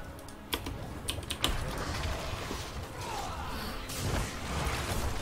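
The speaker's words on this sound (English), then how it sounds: "Yes, I have a loud keyboard." A loud computer keyboard clatters with irregular bursts of keystrokes during a Heroes of the Storm match, mixed with game sounds and a steady background hum.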